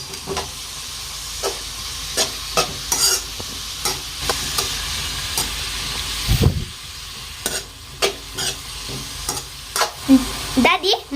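Cabbage egg fry with spice paste stirs in a pan, a steady sizzle under repeated scraping and clacking strokes of a spoon, close and fairly loud, with no talking.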